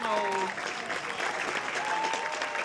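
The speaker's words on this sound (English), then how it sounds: "a rousing round of applause there" Spectators applaud at an under-12 American football final, Chorley Bucs versus London Blitz, a broad even spread of crowd clapping with commentators talking over it throughout.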